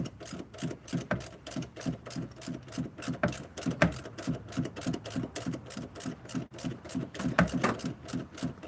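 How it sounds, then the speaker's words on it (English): A ratchet tightening a motor mount bolt on a 2003 Honda Pilot: fast, steady metallic clicking in a continuous rhythmic run, close and fairly loud, with no talk. "We'll get this torqued down to 35 foot-pounds next."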